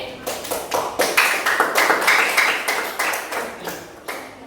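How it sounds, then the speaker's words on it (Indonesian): A classroom of students claps for a presenting group, with sharp, closely spaced claps in a quick, uneven rhythm that swells and then thins out toward the end. "Tepuk tangan untuk kelompok ini"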